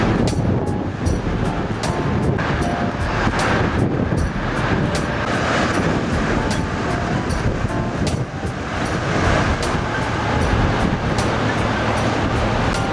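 Strong wind buffets the microphone on the deck of a Rhine river passenger boat, a steady loud roar with gusty rumble that continues throughout, with no talking.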